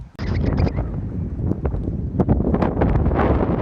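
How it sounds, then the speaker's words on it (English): Strong gusting wind buffets the microphone before a storm, a loud continuous low roar with rustling bursts, close and unbroken throughout. "there is a super strong wind pushing me along"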